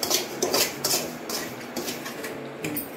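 Semolina (rava) dry-roasted in a pan without ghee for kesari, stirred with a utensil that scrapes and clinks against the metal in repeated strokes, close and fairly loud with no talking.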